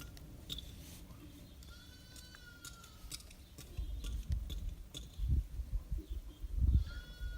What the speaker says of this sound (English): a little sheep screaming every 10 seconds was my background sound